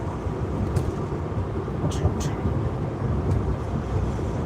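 A heavy truck engine idles with a low, continuous rumble, steady and close, with a few faint higher clicks over it.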